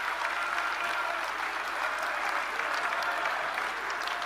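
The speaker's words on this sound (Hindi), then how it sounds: "इसके लिए हम सभी एक बार तालियां बजाकर अपने प्रधानमंत्री मोदी जी का अभिनंदन करें।" Dense, continuous crowd clapping for the Prime Minister at a large political rally, a steady wash of many hands at a distance, unbroken throughout.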